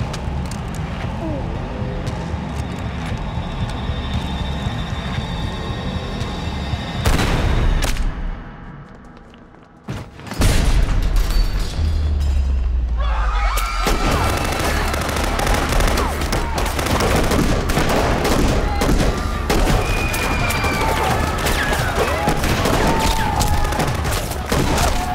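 Rifle gunfire fills a violent film scene from a thriller set on election night, loud dense volleys and booms that stop briefly, then return as sustained heavy shooting mixed with shouting voices.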